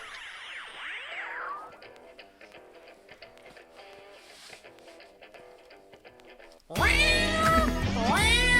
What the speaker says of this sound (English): Did we hit a cat?